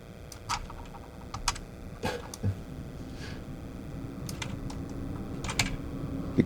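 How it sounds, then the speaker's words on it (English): Keys clack in irregular bursts, quick taps clustered with short pauses, close by over a low steady background hum. "I'm also using the keyboard, the WASD keys"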